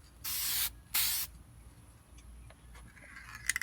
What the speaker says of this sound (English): first coat, you want to go very light with it, so and give it a nice little mist across it